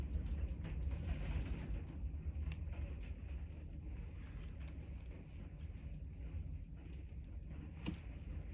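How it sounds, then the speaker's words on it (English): Strong wind blowing outside, a loud, continuous low rumble and roar with gusty surges that lasts the whole stretch, with no voices. "That wind out there is going wild."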